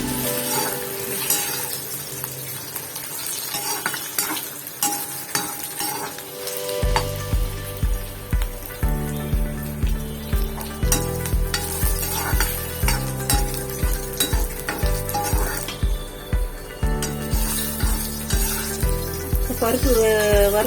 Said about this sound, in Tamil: பருப்பு வறுபட்டுருச்சு.